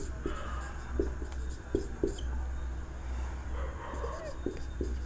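Chalk or marker writing an example sentence on a board, short scratchy strokes and taps in an irregular rhythm, mixed with a teacher's quiet talk over a constant low hum.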